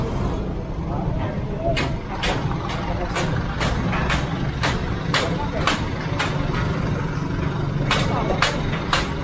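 A truck engine rumbles steadily and fairly close, with light regular clicks on top, while people talk nearby.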